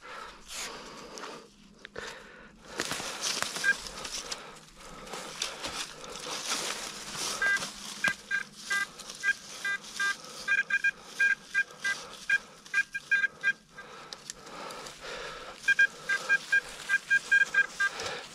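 A metal detector sweeps a forest near Kraków while searching for medieval mine sites, giving short repeated beeping signal tones that come in bursts over rustling and handling noise, clearer and more frequent toward the end.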